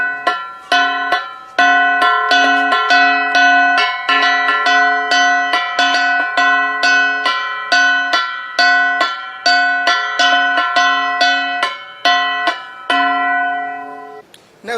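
A Cordillera hitbat, or leya, gong is struck in a steady repeating pattern, each bright metallic hit ringing on with sustained overtones, loud and close with no voices over it.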